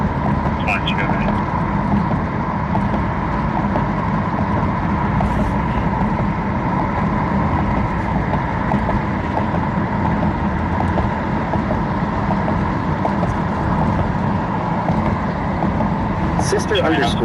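Car driving over a rough, bumpy road, a constant rumbling road and engine noise from inside the vehicle with a voice speaking under it.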